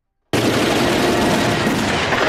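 Sustained machine gun fire from a Jackie Chan action movie scene bursts in abruptly after a short silence and continues as a loud, dense, unbroken rattle of rapid shots.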